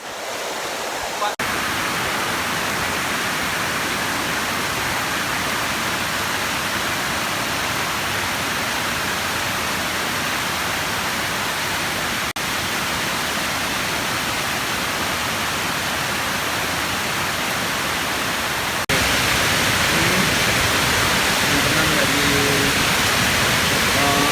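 The Tujuh Bidadari waterfall in Aceh roars as a steady, loud, unbroken rush of falling water during rain, with the noise swelling slightly near the end.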